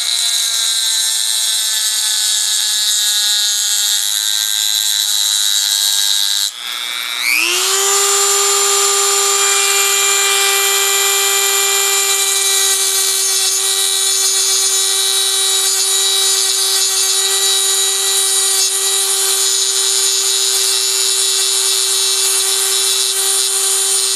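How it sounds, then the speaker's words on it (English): A grinder works down the rivet on the side of an accordion reed, a steady high whine that dips briefly as the tool bites, then settles into a sustained, loud, even grind with a ringing tonal edge, with no talk. "I just get on the rivet on the side of the reed and start grinding it down"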